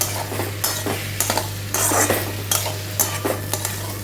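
A spoon scrapes and stirs through a frying pan of pointed gourd curry with poppy seed paste, producing repeated rhythmic clinks and scrapes against the pan over a low steady sizzle, close and fairly loud.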